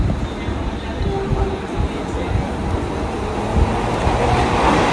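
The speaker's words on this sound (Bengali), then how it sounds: "চলে আসছে সাহিবগঞ্জ থেকে হাওড়াগামী ইন্টারসিটি এক্সপ্রেস, সাথে রয়েছে একদম চকচকে লাল রঙের WAP4 ক্লাস লোকোমোটিভ" An Intercity Express from Sahibganj to Howrah, hauled by a red WAP4 class electric locomotive, runs through a station platform, a loud continuous rumble and rolling clatter with some voices mixed in.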